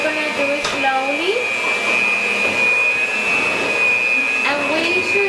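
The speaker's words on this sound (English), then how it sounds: "we shouldn't stop the mixer because it's gonna lose our consistency" Electric mixer whirring steadily while mixing tres leches cake batter, a loud continuous high-pitched motor drone with faint clinks and voices underneath.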